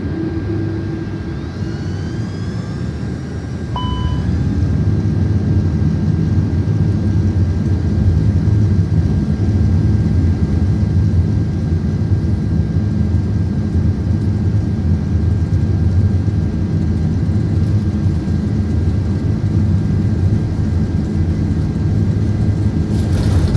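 A simulated airplane engine in Microsoft Flight Simulator 2024 roars steadily and loudly throughout. It builds up in the first few seconds and then holds a constant drone.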